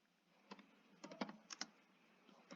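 Keystrokes on a computer keyboard while entering Python code, a few scattered clicks ending in a firmer press of the enter key, close and fairly quiet with no talking.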